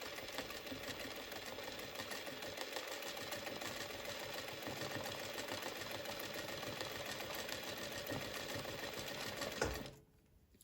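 A sewing machine quilts fabric-scrap patchwork in small semicircle patterns, its needle running in a fast, steady, close whir for about ten seconds before stopping abruptly.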